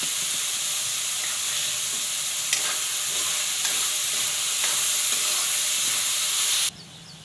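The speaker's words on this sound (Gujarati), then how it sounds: "હળદર આપણે નાખી દેવું આ સ્વાદ પ્રમાણે આપણે મીઠું નાખી દઈશું અને જીરું નાખી દઈશું" Turmeric, salt and cumin sizzle steadily in hot oil, a loud, even frying hiss with a few faint stirring clicks, cutting off abruptly near the end.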